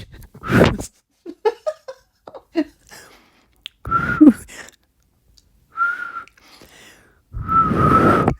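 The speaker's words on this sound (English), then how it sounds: "This is the extent of my whistling." Repeated failed whistling attempts: breathy airy blows, some carrying a faint thin tone, come in short bursts separated by pauses, close and fairly loud, with a few other breathy mouth sounds between them.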